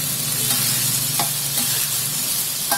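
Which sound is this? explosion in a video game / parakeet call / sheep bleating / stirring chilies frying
stirring chilies frying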